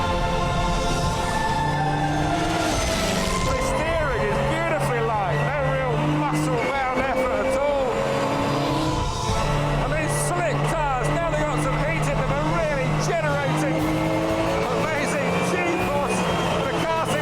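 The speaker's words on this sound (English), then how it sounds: "The 911 GT3 Cup Car, raced by Team Parker in the UK Carrera Cup Championship." Porsche 911 GT3 Cup race car, as run in the UK Carrera Cup, lapping hard: its engine note climbs and drops through gear changes, while someone talks over it nearly throughout.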